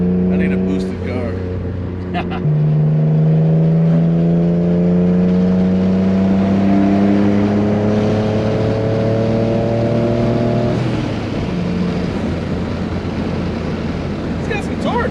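A Dodge Stealth engine revs up loud and close, pitch climbing and dropping as it shifts through gears, with road noise underneath.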